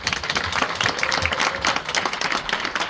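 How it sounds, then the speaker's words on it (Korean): An audience at a Korean film event claps loudly and continuously as a cast member is introduced, a dense burst of applause filling the short moment. "큰 박수 부탁드리겠습니다"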